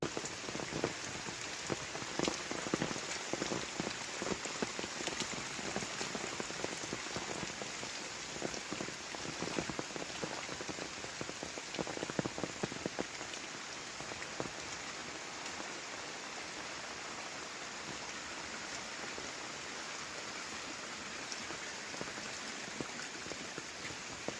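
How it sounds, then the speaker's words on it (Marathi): Heavy monsoon rain pours down steadily in a Konkan village, dense drops drumming on surfaces close by, with no pauses for the whole stretch. "पाऊस खूप पडतोय ना"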